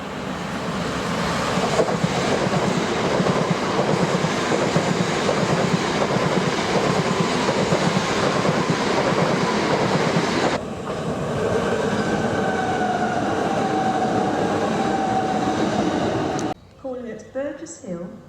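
Loud, continuous rumble of an eight-coach train rolling on rails, heard from inside with rhythmic rattling; a faint squeal rises midway before the noise cuts off abruptly.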